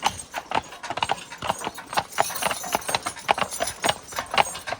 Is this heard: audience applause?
no